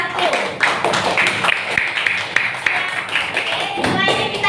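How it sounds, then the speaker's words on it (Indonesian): Students in a classroom clap for a presenting group, a dense, close burst of hand claps with some taps and thumps, mixed with voices throughout. "Kita beri tepuk tangan untuk kelompok 1."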